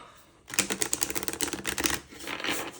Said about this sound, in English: And then we'll give it an actual shuffle.